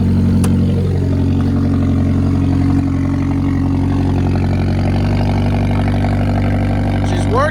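A Mazda 3 that had been stranding its owner runs after a cold start, its engine holding a loud, steady idle close by with an even drone from start to finish.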